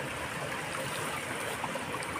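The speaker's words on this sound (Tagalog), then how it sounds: "Maagos na tubig" Water flowing steadily at a hot spring in Los Baños, Laguna, a continuous close rushing and trickling with no pauses, filling the short stretch alone without voices.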